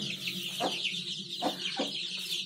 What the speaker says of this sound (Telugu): నా కోళ్ళను చూపిస్తున్నాను అండి